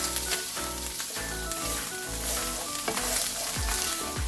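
Ingredients for a Spanish quiche stir in hot oil in a pan, a loud steady sizzle broken by repeated scrapes and knocks of the utensil against the bottom, no talking.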